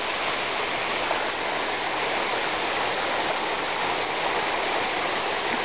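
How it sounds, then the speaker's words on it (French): Water from a stream flowing down a trail rushes and splashes steadily nearby, a constant loud flowing roar without pauses or voices. "l'eau elle descend de partout, donc le sentier c'est en même temps la rivière"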